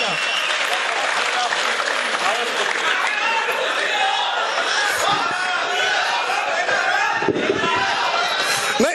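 Loud, dense applause from a crowd at a Hindi poetry gathering for the poet Prashant Agarwal, a steady roar of clapping that continues without break, with scattered chatter mixed in.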